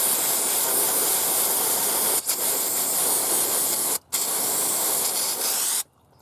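Oil pouring from the drain of a Peterbilt 359 oil pan into a drain pan, a loud steady rushing hiss that runs continuously with a few brief breaks before stopping near the end.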